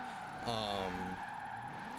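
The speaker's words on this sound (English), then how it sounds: "take 485 of trying to drift without going off the track" A Honda NSX-R drifts in Forza Horizon 4, giving a brief rising engine whine with tire skid. It sounds fairly quiet over a low background.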